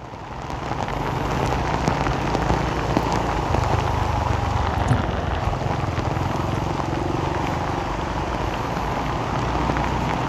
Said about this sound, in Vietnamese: Không ngờ mưa to quá các bạn ơi.